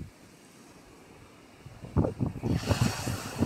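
Large ocean waves surge and splash, starting as low wind rumble and turning loud and turbulent halfway through, heard close with heavy wind noise.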